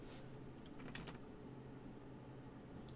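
Typing on a computer keyboard, a few faint quick key taps over a steady low hum, with no talk.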